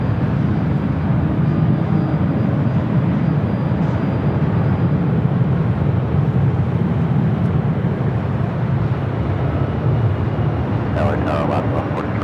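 A Japan-bound airliner taking off on runway 24 left at LAX, heard as a loud, sustained low-pitched jet engine roar that holds steady throughout, with brief faint voices near the end.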